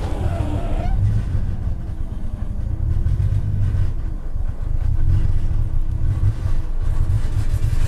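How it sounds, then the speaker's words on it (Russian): A Nissan GT-R tuned to 1200 horsepower idles and runs with a low, rough rumble after an oil pressure and transmission fault, heard close inside the car while someone talks over it. "Ты слышишь, какая машина работает?"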